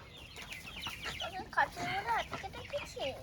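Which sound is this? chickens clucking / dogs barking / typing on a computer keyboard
chickens clucking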